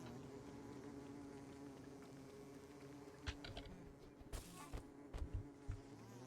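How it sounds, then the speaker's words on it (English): Swarm of bees buzzing in the Don't Starve Together video game, a steady close drone running throughout with irregular clicky game sounds and brief bursts layered over it in the second half. "Hello, bees. Hey, my bees are all here."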